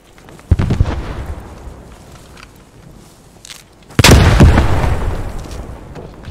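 Grenade blasts and gunfire in a World War II shooter game, with two heavy explosive bursts, one early and a louder one later, each decaying into rumbling, crackling aftermath.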